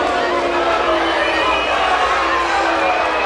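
A large boxing crowd at a women's fight event reacts unhappily to a draw, with a steady, loud wash of shouting, booing-like voices and scattered whoops lasting the whole moment.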